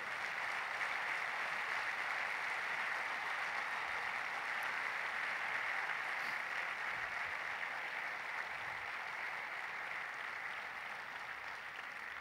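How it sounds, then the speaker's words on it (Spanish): A church congregation gives sustained applause, a soft, even wash of many hands clapping that holds steady for about twelve seconds at a moderate distance, with no talk over it. "¿Por qué no le da un aplauso al Señor fuerte?"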